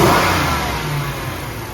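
A 2012 Chrysler 300 SRT8 V8 engine revs hard, a loud, close roar that is strongest at the start and eases slightly as it settles, with no voices over it.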